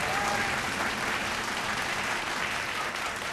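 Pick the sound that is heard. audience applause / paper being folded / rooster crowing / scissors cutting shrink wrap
audience applause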